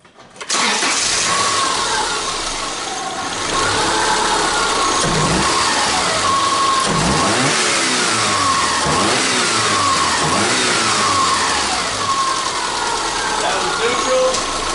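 A 2006 Subaru engine cranks and catches, then revs up and down repeatedly in a steady, loud run close by, with a voice speaking briefly over it.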